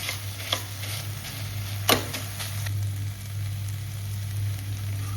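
Onions and tomatoes fry in a pan over a slow flame, a steady low sizzle with a constant hum beneath, broken by a few sharp clicks and scrapes as a ladle stirs, one stroke especially loud near the middle.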